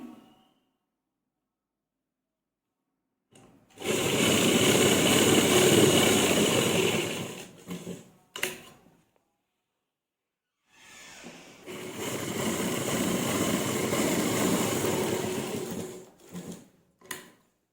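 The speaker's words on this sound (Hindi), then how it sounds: "इलास्टिक को खींचने के बाद हम फिर से सिलाई लगाएंगे" A sewing machine stitches elastic onto ladies' pants in two long, steady runs of whirring motor and needle clatter, each ending in a few short bursts, with a quiet pause between them.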